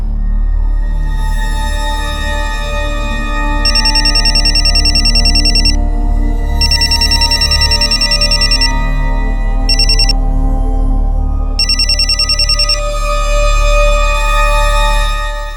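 A phone rings loudly and continuously, an electronic ringtone pattern repeating in bursts with short gaps, playing alone throughout.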